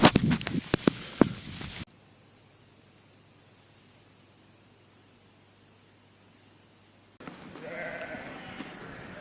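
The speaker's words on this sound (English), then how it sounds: "That was surreal, walking through all them sheep." A flock of sheep bleats close by during a cross-country walk, several overlapping calls bunched into the first couple of seconds, then near silence, before a steadier, noisier outdoor stretch returns at the end.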